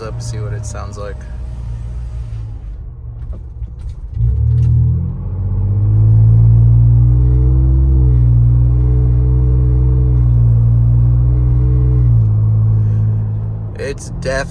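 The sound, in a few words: Ford Bronco Flowmaster exhaust heard with windows rolled up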